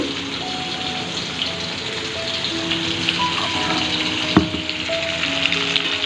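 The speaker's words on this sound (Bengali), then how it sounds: "তো মাছটা ততক্ষণ ভাজা হোক" Fish frying in a pan makes a continuous crackling sizzle under faint background tones, with one sharp clink partway through.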